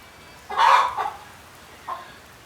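A hen gives a short burst of clucking outdoors in the rain, then one more soft cluck a moment later, fairly close against a quiet background.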